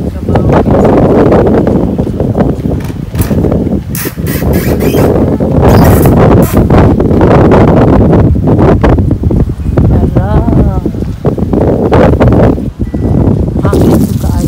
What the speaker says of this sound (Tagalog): Hangin ko kaayo.